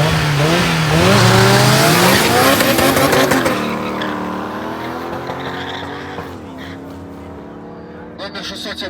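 A Mercedes W202 with a 5.5 engine and a turbocharged 1.8 Lada launch from the start line of a drag race, engines roaring loudly and rising in pitch with tire squeal, then fading as the cars pull away.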